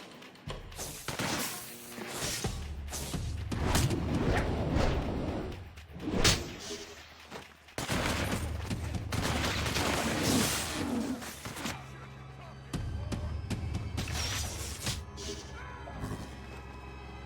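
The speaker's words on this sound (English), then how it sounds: "Oh, a rocket!" Rocket strikes and explosions in the inFamous 2 video game, with loud bursts and thuds in several waves over a steady rumbling game backdrop, with a person talking at points.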